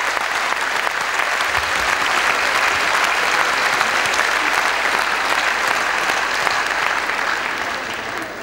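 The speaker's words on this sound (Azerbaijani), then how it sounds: "Xahiş edirəm onları da bir alqışlayaq" Sustained, dense applause from a concert audience at a comedy show in Baku, loud and steady throughout, easing slightly at the very end with no speech over it.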